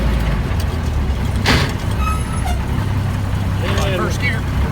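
An M756A2 pipeline truck rolls downhill in first gear on a steep road, giving a steady low engine and road rumble close by, with a brief hissing burst and someone talking over it.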